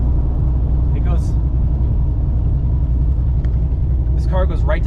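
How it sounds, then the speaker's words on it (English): A carbureted Fox-body car engine idles with a steady, loud low rumble after the clutch is pushed in, while someone talks briefly over it near the start and end. "This car goes right to idle."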